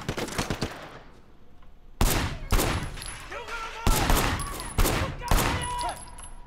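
Gunfire in the video game Sleeping Dogs: a burst of rapid shots at the start, then several loud separate volleys that crack in close up, with short gaps between them and faint game effects underneath.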